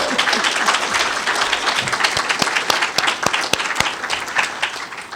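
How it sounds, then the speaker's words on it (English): Steady applause from a seated audience at a national environmental education award ceremony, dense overlapping claps with a few sharper individual hand claps standing out, sustained throughout. "Let's take a moment and give them all a round of applause."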